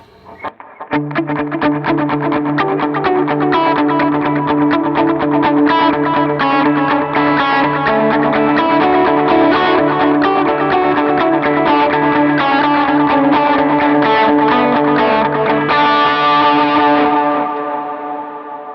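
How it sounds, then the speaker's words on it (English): Continuous distorted electric guitar playing with repeating dotted-eighth delay echoes trailing each note, dense and loud, ringing out at the end. "let's throw a little bit of delay on. Just do a dotted eighth"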